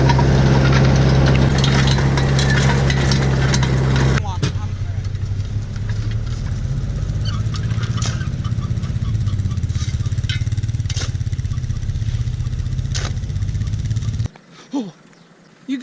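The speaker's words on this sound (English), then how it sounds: "So we got all the tractors running near each other." Farm tractors run near each other in a field during fertilizer spreading and plastic laying, a loud steady engine rumble close by that drops back partway through, with people talking over it before cutting out near the end.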